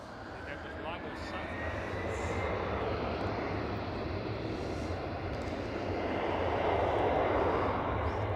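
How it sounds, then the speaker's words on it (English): Polish Airlines Embraer E190 airliner with special livery at Amsterdam Schiphol, its engine roar swelling steadily louder across the span, with faint voices in the background. "Polish Airlines E190 with a special livery"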